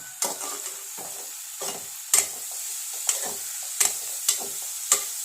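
A ladle stirs and scrapes thoran in a hot pan, sizzling softly between about seven sharp, evenly spaced metallic scrapes and clinks, close and clear with no talking.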